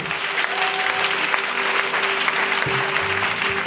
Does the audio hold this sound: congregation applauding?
yes